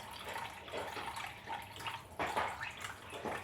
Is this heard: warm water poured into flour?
yes